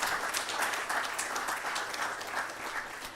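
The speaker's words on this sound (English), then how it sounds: "Let's give Noguchi another clap." An audience at a ceremony marking 45 years of health research at a Ghanaian institute applauds steadily, a dense, even wash of many hands clapping throughout.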